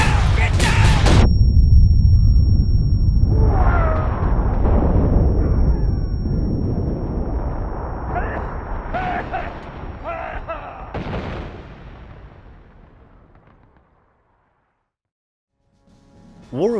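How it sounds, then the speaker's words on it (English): Incoming artillery in the Civil War shooter War of Rights, with heavy booming blasts and rumbling debris, a sharp crack at the start and layered explosions that fade into near silence before another hit lands. "Incoming artillery!"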